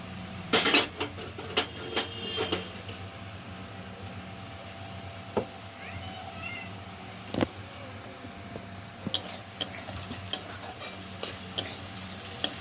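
Broiler chicken curry frying in a pan just after chilli powder goes in, with a low constant sizzle broken by repeated sharp scrapes and clanks of a spoon stirring against the metal.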